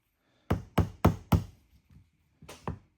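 A small hammer tapping a punch to drive parts out of a Rossi 1892 lever-action rifle: four quick sharp knocks, a couple of faint taps, then two more strikes, close and crisp.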